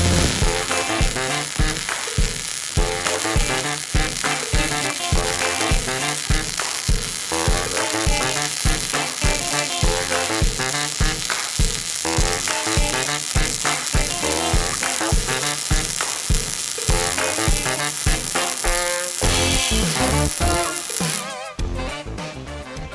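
A new welder running on steel with 3/16 electrode gives a steady, dense crackling sizzle that holds close and loud almost throughout, then breaks off near the end into a few clanks.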